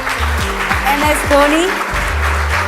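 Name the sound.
applause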